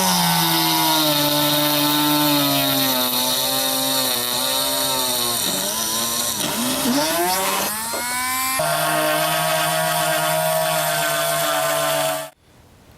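A small motorized hand drill with a 047 bit bores through a model railroad rail joiner, rail foot and plastic ties, a steady high whine that dips in pitch under load mid-way, then cuts off abruptly.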